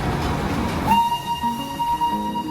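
A train rolls past on a railway track close by, a loud rumble joined by a sustained high tonal whine partway through, with no voices.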